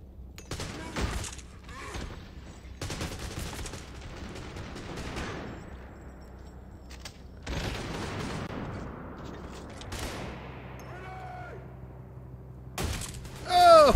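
Explosions and bursts of gunfire from the shooter Trepang 2 arrive in several separate loud volleys with short quieter gaps between them, and a heavy blast comes near the end.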